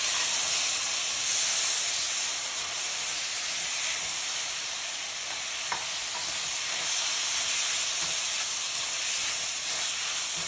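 Beef sizzles in a hot wok with black bean sauce, a loud, steady frying hiss, close up, with a few faint clinks of stirring underneath.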